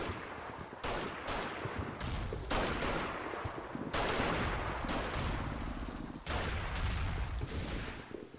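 Covering fire rattles across a World War II Normandy bocage battlefield in Combat Mission, with repeated loud bursts of machine-gun and rifle fire overlapping in a sustained, dense fusillade.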